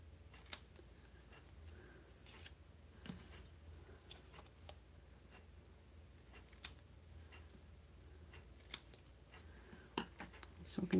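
Scissors snipping paper craft pieces at a table, sparse faint clicks and snips spread across a quiet stretch.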